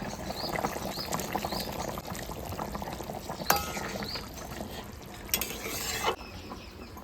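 Potatoes going into a goat meat curry cooked in the village style, stirred in a pot with continuous bubbling and sizzling, close wet scrapes and a few sharper clanks of the utensil against the pot.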